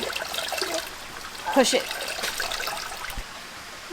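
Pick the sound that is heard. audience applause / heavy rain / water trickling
water trickling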